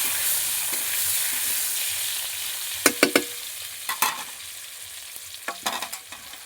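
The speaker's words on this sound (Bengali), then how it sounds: "ভালো করে নাড়াচাড়া করে নিচ্ছি।" Salted potatoes being stirred in a frying pan give a steady soft sizzle, broken by a few sharp scraping knocks of a utensil against the pan.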